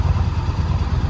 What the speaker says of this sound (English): Engine sounds absolutely lovely